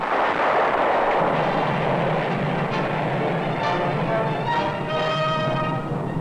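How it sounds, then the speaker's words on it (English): American artillery shell fire during a World War II battle against German tanks: a dense, sustained roar of booming blasts and rumbling reverberation, loud and continuous, with ringing metallic tones emerging toward the end. "American guns in the battle against German tanks, shell fire blasting the enemy"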